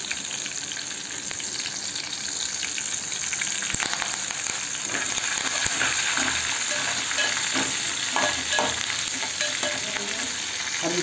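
Cumin seeds, crushed green chili, garlic and curry leaves fry in hot oil for tomato chutney, giving a steady, dense sizzle with crackling pops and occasional stirring scrapes throughout, no voices.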